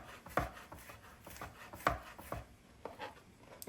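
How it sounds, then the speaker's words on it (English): A knife mincing garlic on a cutting board, a few quiet, sparse taps and soft rocking strokes spaced irregularly, with no talking. "it's a little bit easier to just kind of run your knife through"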